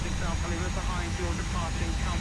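Airbus A320 jet engines spooling up for takeoff in the Prepar3D flight simulator, a loud, steady, broadband roar that holds constant throughout.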